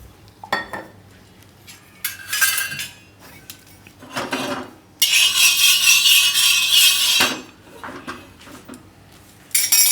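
Masoor paratha roasting with oil on a pan gives a steady sizzle, under bursts of metal clinks and utensil scraping against the pan.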